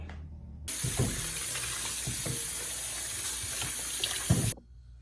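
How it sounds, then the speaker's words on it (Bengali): Tap water runs steadily onto onions being washed at a kitchen sink, a continuous rushing stream with faint knocks of handling, starting abruptly and cutting off near the end, with no talking. "তো আমি এই পেঁয়াজটাকে এখন ধুয়ে নিচ্ছি, তারপরে এটাকে আমি কেটে নেব।"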